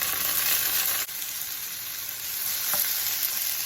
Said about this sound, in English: I'm going to add this and just saute a little bit